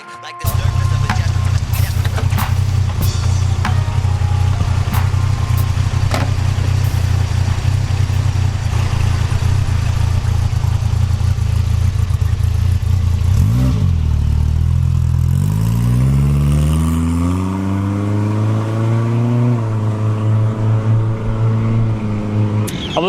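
A 1979 Holden Gemini TE SLX engine runs loud and close, idling with a steady low rumble, then revving in several rising and falling sweeps toward the end.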